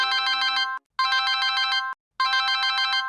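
A phone ringtone plays a bright repeating electronic melody in three bursts separated by short pauses, loud and close with no talking.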